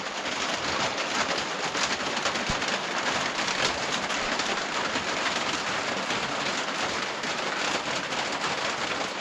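Steady rain drumming on a newly roofed backwoods cabin, a dense continuous patter of drops holding even and close for the whole stretch, with no talking.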